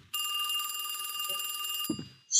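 A telephone rings in a horror video game with one sustained electronic trill lasting nearly two seconds, followed by a brief clunk and a short high tone, with no speech.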